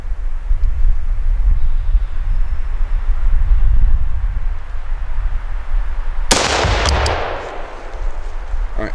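A single loud gunshot fired at a target cracks out after several seconds of steady outdoor rumble and wind, then decays in a short echo.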